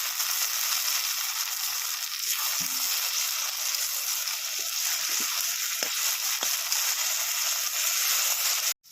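Onions frying in a pan with tomatoes added, a steady loud sizzle running throughout, broken by a few soft clinks and stirring knocks.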